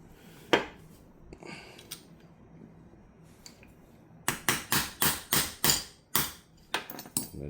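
A hammer taps a part into the frame of an MPA DS9 9mm pistol, a few scattered knocks followed by a quick run of about ten sharp metallic strikes, close and loud with no talking.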